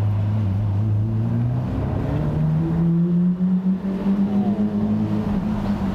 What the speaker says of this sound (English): This exhaust, I think he's got it just about perfect.